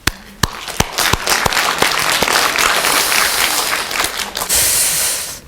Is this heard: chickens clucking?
no